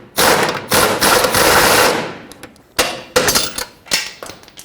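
Pneumatic impact gun with an extension bar hammering loose the lower control arm nut on a 2003-2008 Toyota Corolla, a loud sustained rattling burst for about two seconds, then several shorter stuttering bursts close to the mic.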